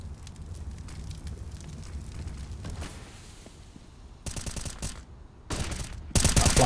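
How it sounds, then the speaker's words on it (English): During a CS:GO match on the Overpass map, muffled game ambience gives way to loud bursts of rapid gunfire, with short volleys around the middle and a heavier barrage at the end; no distinct flashbang pop stands out. "Flashbang's perfect."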